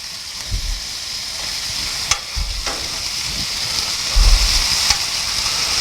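Burgers fry on a griddle with a steady, close sizzle and crackle, broken by a few sharp spatula scrapes and clicks as patties are moved and flipped.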